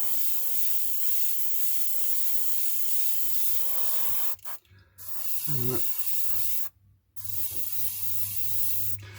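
An airbrush sprays model paint over masks in a steady close hiss, broken by two short pauses between passes, with no talking.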